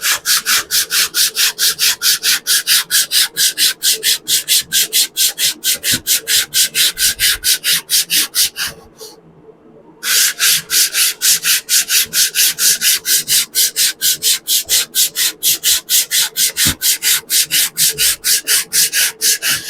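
An antique wooden chair sanded by hand with fairly coarse sandpaper gives loud, close, rhythmic rasping strokes in a fast regular back-and-forth pattern, with one brief pause midway before the strokes resume.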